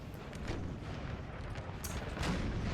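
Napoleonic-era artillery cannons booming in a Total War 4v4 battle, a steady rumble of distant cannon fire and musketry with a few sharper reports standing out.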